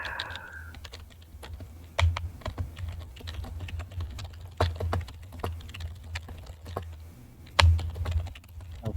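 Fast, forceful typing on a computer keyboard, close and fairly quiet, with irregular bursts of clattering keystrokes and a few sharper heavy hits, no voices.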